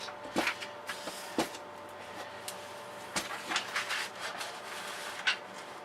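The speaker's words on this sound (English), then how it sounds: "So we will get some paper going on in this printer." Quiet mechanical whirring with scattered clicks and thumps as a printer pulls paper through, intermittent knocks over a low hum.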